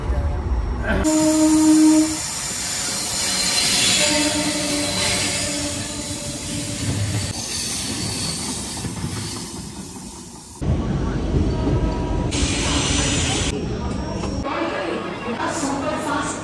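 The 12311 Netaji Express rolls into Kanpur Central railway station with a loud, close rumble of wheels, clatter and squealing rails, a sudden louder burst partway through, and voices talking over the noise.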